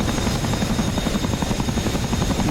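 Military helicopters in the DCS combat flight game, a steady rapid rotor thump over a continuous turbine whine, close and loud without pause.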